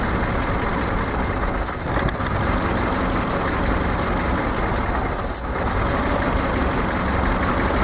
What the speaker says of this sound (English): This is a normal, this is now at a normal idle speed.